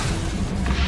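A single loud, dense burst of spell magic crashes and whooshes in close-up during a spell duel in the video game Hogwarts Legacy.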